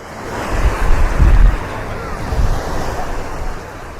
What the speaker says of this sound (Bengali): শুধু ঢেউয়ের শব্দ